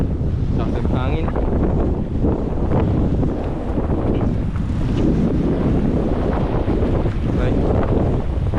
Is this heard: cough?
no